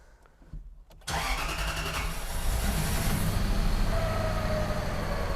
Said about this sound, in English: All right, let's fire this thing up.